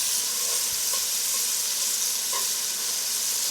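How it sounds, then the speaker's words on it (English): Shrimp sizzle loudly in a hot pan for jambalaya in a dense, constant hiss. A few light clinks and taps mark the pieces being flipped, close up and with no speech. "I'm just flipping the shrimp now."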